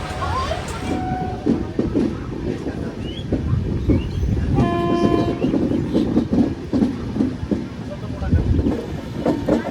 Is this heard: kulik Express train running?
yes